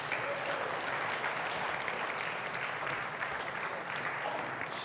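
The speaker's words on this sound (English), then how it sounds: "Give these guys a round of applause." Audience applause at a night-long revival gathering: a sustained, even roar of many hands clapping that fills the room for about five seconds, with no speech over it.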